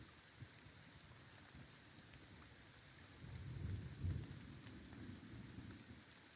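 Steady rain patters in the video game Pillars of Eternity while a low roll of thunder swells midway and then eases off, all faint and distant.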